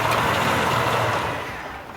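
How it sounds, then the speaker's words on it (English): A big black Lincoln drives toward a school gate. Its low, steady engine rumble fades slightly as the car rolls in, with no talk. "You see a big black car driving to the school gate."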